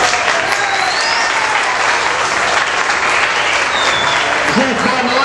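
Audience at a political plenary meeting gives a steady, loud round of applause, dense clapping filling the whole stretch with faint crowd voices beneath.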